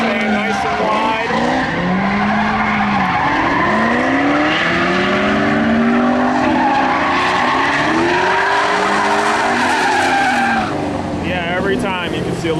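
Mustang drift cars sliding sideways with loud, continuous tire squeal and skidding, engines roaring and revving up close, while a person talks over the action.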